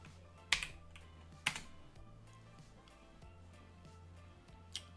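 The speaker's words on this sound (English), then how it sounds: "So we're going to go ahead and type in build." A few scattered keystrokes on a computer keyboard, quiet and close, with sharper clicks between soft taps in a still room.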